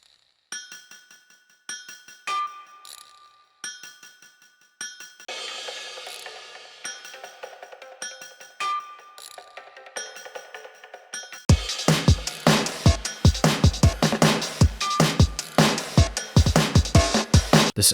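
Construction Thrill sound effects from a derelict site soundtrack: scattered metallic clinks and ratcheting mechanical clicks over a faint hum, then a dense, loud stretch of rapid clattering hits and pounding percussion, with no voices.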